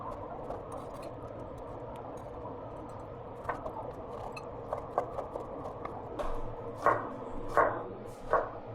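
Knife slicing tomatoes on a cutting board, quiet, irregular taps that grow into a few sharper, closer chops toward the end.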